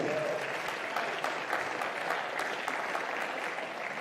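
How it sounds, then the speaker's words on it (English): An audience at a Squash Eredivisie event in the Frans Otten Stadion in Rotterdam applauds a player, a steady, fairly soft wash of clapping from a modest crowd. "So a round of applause for Scott Gillanders."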